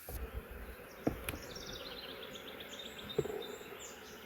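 Honey bees hum at an open hive during a swarm-prevention inspection, a steady high buzz filling the whole stretch with a couple of brief knocks and clicks from handling frames, no talk.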